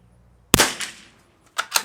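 Rimfire target shots from a Lithgow LA101 and a CZ 455 with a Walther barrel, firing Eley Tenex ammunition: one sharp, loud crack with a decaying ring, then two quicker, fainter reports close together.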